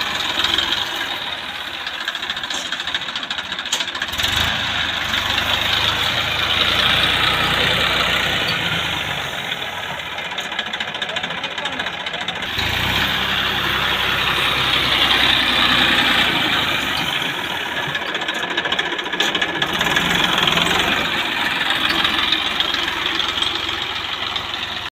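A tractor engine idles steadily and continuously for the whole stretch, a loud, even mechanical drone with slight rhythmic knocking and no speech.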